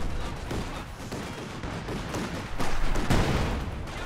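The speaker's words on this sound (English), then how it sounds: "Goes for the Zis barrage" A ZiS artillery barrage in Company of Heroes 2 roars as a dense, continuous wash of blasts and rumbling impacts, swelling louder in the last second and a half.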